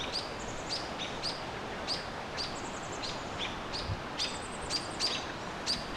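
Small birds, young ones among them, calling in repeated short high chirps and trills while mobbing a barred owl at evening in a Canadian park, steady outdoor background hiss, no talk.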